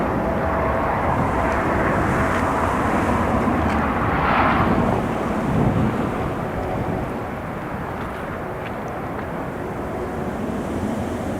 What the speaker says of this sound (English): Next to depart, KLM.